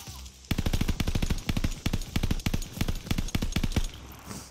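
Sustained bursts of Lewis gun fire in the World War II shooter Call of Duty: Vanguard, set in Stalingrad, rapid loud automatic rounds rattling almost continuously after a brief quiet start.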